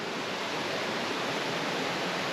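The Otaki River flowing, a dense, even hiss of rushing water heard close and continuous with no voices over it.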